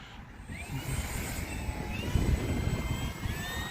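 Arrows Husky 1800 mm RC plane in flight, its motor droning at a moderate distance and rising slightly as it speeds up, with broadband wind-like noise and no talk.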